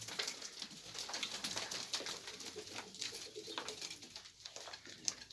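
Pigeons cooing and fluttering in a loft in Kayseri, a busy steady chorus of birds close by, with no speech.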